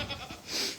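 Goats bleating in a farm pen during a blizzard, a short, fairly faint call standing alone over windy background noise.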